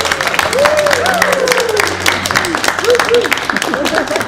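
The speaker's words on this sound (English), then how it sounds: "Could I ask a little ripple of applause please for the boys who are joining us for dinner tonight" An audience at a dinner gives a ripple of applause for a visiting band: a steady wash of clapping that runs throughout, with voices talking over it.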